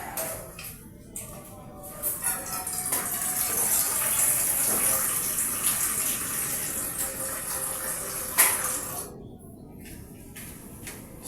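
Water gushes steadily into a pot for cooking sardine soup with eggs, a rushing pour that swells and holds for several seconds before cutting off.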